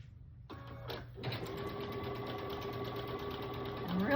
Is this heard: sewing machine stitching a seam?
yes